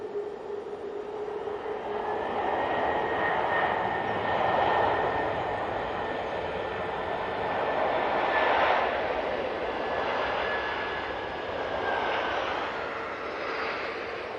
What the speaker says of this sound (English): it's the Aer Lingus A380, another one. This one's coming in from JFK.